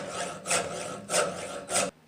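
A hard metal hammer clamped in a vise is hand filed in three long, steady rasping strokes, with brief pauses between them and no talk.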